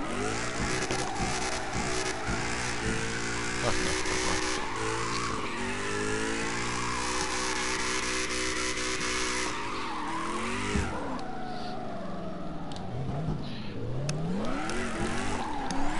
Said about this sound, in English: That's me when it hits the red line, just upshifting.